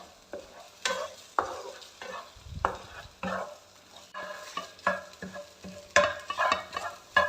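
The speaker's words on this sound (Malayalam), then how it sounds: "നല്ലോണം അതൊന്ന് ചിക്കി എടുക്കണം" Black pepper powder stirred in a frying pan for egg masala: a run of close, irregular spatula scrapes and taps over a faint sizzle, with no one speaking.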